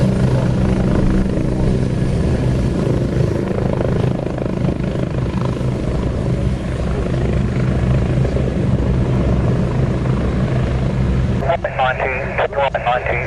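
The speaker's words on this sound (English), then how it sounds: "listen carefully to the sound of these fabulous helicopters" Helicopters roar overhead with a dense, continuous rotor thrum, loud and sustained, with a brief change in texture near the end.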